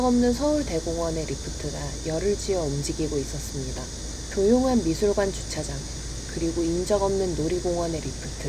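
Cicadas drone faintly and continuously in summer around a quiet, empty art museum parking lot, a thin steady buzz sitting beneath a person narrating.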